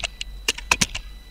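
Keys clatter on a computer keyboard in a quick burst of about nine or ten distinct clicks, close up and crisp, with no speech over them.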